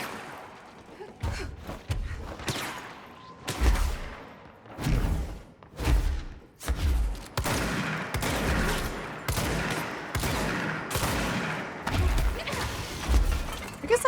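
Sniper rifle shots and other gunfire crack repeatedly in a hectic firefight in the video game Control, loud bursts hitting at uneven intervals with a few heavy impacts between them.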